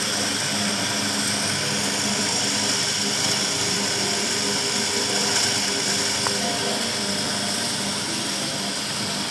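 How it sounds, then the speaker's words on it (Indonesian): A universal motor runs on a lab bench during an electrical machines practical, giving a steady, continuous high-pitched whine with a buzzing hum underneath and no change in speed. "Pada saat si motor ini running."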